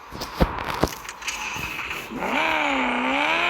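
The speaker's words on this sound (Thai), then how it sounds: "จากนั้นกดสตาร์ทเครื่อง แล้วก็เบิ้ลเครื่องเลย" The engine of a manual-gearbox car in the video game Car Parking Multiplayer 2 starts after a few clicks and taps, then revs up and down in rising and falling sweeps, loud and close.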